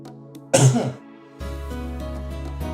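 A single harsh, lingering cough bursts out once, close and loud, followed by a sustained low musical drone.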